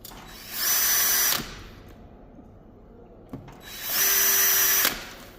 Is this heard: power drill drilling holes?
yes